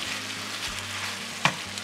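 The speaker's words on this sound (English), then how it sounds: "let's just stir that around and let that combine in there with it" Ingredients are stirred around in a quietly sizzling pan on a home stove, a faint close hiss with soft scraping, a low hum underneath and one sharp clink of a utensil near the end.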